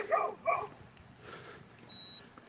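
Neighborhood dogs, including a Bernese mountain dog nearby, give two quick barks close together, then fall quiet except for a faint softer yip and a brief high beep.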